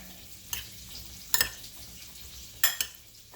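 Cucumber salad being tossed with salt in a bowl, three sharp clinking scrapes of a utensil against the dish over a soft steady background hiss.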